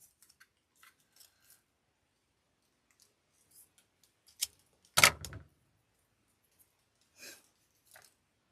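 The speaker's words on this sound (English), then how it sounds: "So let me cut this tag off." Small scissors snip a tag off artificial florals, a few soft clicks and one sharper cut standing out in a quiet room.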